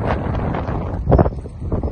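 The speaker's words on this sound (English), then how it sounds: "And it's windy." Steady gusting wind buffets the microphone with low rumbling noise, swelling briefly louder midway, with no voices.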